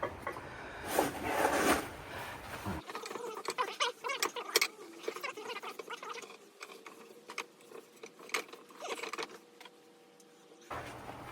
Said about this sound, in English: Let's start rebuilding the oil pump.